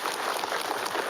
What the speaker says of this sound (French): On doit applaudir pour ça.